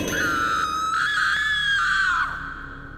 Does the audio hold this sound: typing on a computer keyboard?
no